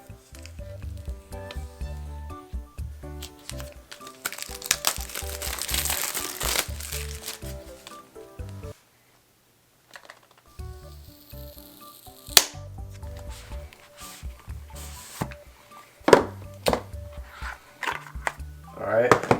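Packaging for an Apple Pencil (2nd generation) being opened by hand: crinkling, rustling and sliding of cardboard and plastic in bursts, with a brief quiet gap, then sharper clicks and taps of the box.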